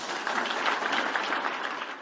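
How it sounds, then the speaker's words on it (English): A business seminar crowd breaks into sustained applause, a dense, even wash of clapping hands heard from within the room. "with a big round of applause, help me welcome the Chief Sales Officer from Amway, Vijay Golani."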